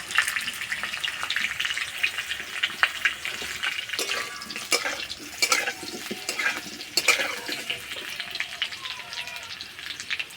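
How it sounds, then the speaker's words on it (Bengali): Potatoes fry in a pan with a crackling sizzle, broken by irregular stirring clatters and scrapes, fairly close and moderately loud, with no speech. "আলু ভাজা হয়ে গেছে।"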